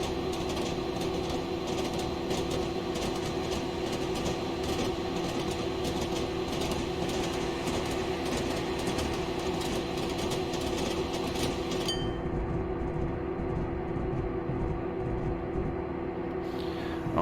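Class 55 Deltic diesel locomotive hauling from Edinburgh Waverley in Train Simulator, a steady loud droning engine roar with constant rumble and rail noise throughout, no talking.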